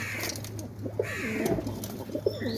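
Male pigeons cooing in a cage, repeated soft rolling coos close by, with a couple of birds overlapping.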